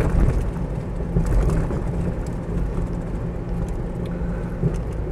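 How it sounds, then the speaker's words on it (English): A Mitsubishi Pajero 2.8 TDI long-wheelbase automatic gives a steady, loud, low engine and road rumble while driving. The drone is broad and even throughout, with no talking. "Starts on the button. No misfiring or hesitancy from the motor at all."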